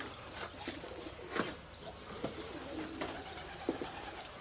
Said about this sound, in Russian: Много воркует, бегает, значит, много самцов голубей